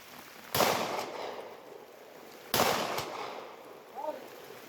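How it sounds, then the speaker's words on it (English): Two pistol shots fired outdoors at a target 90 yards away with a Leupold DeltaPoint Micro red dot sight, loud sharp cracks about two seconds apart, each trailing off in a brief echo, with quiet ambience between. "let me throw some shots down here at 90 yards and see if we can hit this target"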